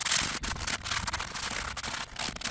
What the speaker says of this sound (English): take tin foil, just like that, and use it as a scrub brush all around the whole entire barbecue